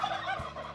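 A local turkey gobbles once, close and clear, in a brief rapid warbling call.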